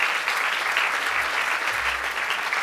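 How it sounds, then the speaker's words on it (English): Dense, steady applause from an audience at a small business conference after a speaker's presentation, loud and continuous throughout, with no voices over it. "So let's give Sam another round of applause."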